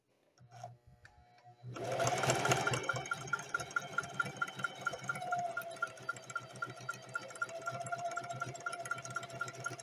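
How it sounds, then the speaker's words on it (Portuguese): A sewing machine stitches fabric for a simple dish-towel border at moderate speed: after a short start it settles into a steady mechanical whir with a regular rapid ticking of the needle, close and continuous. "Não puxa o tecido, deixa que a máquina puxe o tecido"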